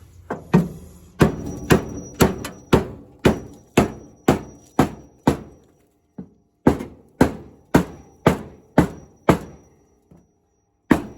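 A dent is hammered out of a 1975 Dodge Custom 100 truck panel with sharp, ringing metal blows struck in a steady rhythm, about twenty in all, with a short pause midway.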